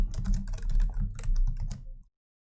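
Rapid typing on a computer keyboard, with quick irregular clusters of key clicks close to the mic. It runs for about two seconds and then stops into silence.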